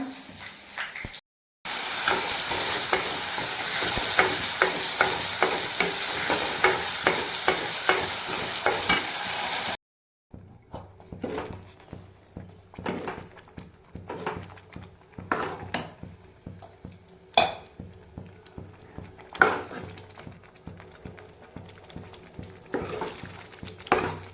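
Indian tadka tempering of spices sizzling and frying in a pan with stirring, loud continuous sizzle at first, then intermittent scraping stir strokes and clatters close by, no talking.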